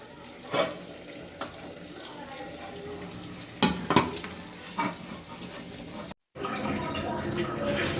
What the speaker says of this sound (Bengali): পাঙ্কাশ মাছ ভেজে নিচ্ছি